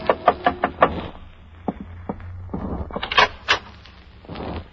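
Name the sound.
knock on a hotel room door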